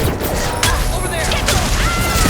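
Dense, loud gunfire crackles in a Mass Effect 2 combat scene, mixed with booms and heavy battle noise for about two seconds.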